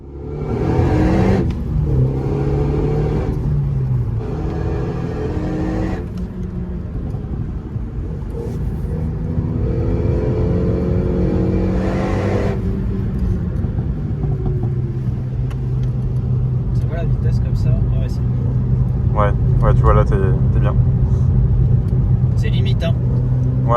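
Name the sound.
Renault Megane 3 RS Cup driving on track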